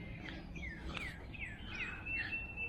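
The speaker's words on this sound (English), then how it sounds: "A lot of birds out here." Several birds chirp and tweet outdoors at a Virginia campsite on a hazy day, with short rising and falling calls repeating every half second or so over a steady low background hum.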